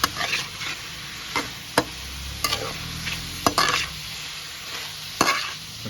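Shrimp and scrambled egg are stirred in a pan over medium heat, with a soft, steady sizzle broken by sharp scrapes and knocks of the spatula at uneven intervals, and nobody talks.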